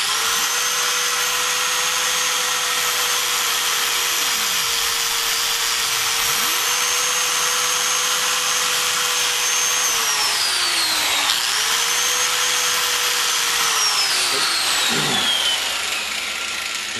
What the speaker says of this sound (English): I didn't even let the full weight of the grinder sit on there. Just very light to take off that corrosion.